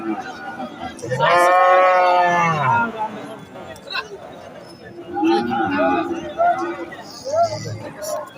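A cow lows once loudly and drawn-out near the start at a cattle market, followed by people talking and general bustle of animals and voices nearby.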